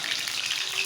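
Green chillies popping and sizzling in hot oil in a home kitchen, a steady dense crackle that stays close and loud through the whole short moment, with no voices.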